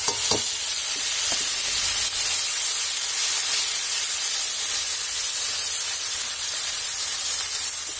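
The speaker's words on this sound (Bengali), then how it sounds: "তো পেঁয়াজটা দিয়ে দিচ্ছি।" Sliced onion goes into hot oil in a pan and sizzles loudly and steadily, a continuous bright hiss with a few small pops near the start.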